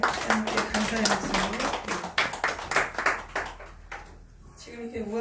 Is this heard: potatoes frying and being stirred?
no